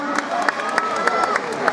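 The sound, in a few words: stadium spectators applauding women's 1000m race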